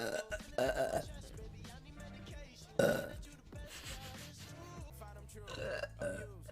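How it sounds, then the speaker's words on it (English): Repeated burps from a woman, loud and close, with a strong one near the middle and others spread through the clip, amid breathy exclamations and background music. "Oh my god, I have to burp again."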